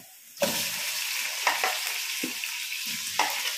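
Tomatoes sautéing in a pan with garlic, a steady broadband sizzle throughout with a few louder scraping stirs of a utensil, close and continuous, no talk.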